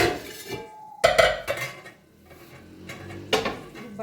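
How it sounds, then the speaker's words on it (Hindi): A large open cooking pot is handled in a home kitchen while chicken pasta is prepared, giving a few loud metallic clanks and scrapes with quieter pauses between them. "बड़ा ज़रा खुला बर्तन मैंने ले लिया है"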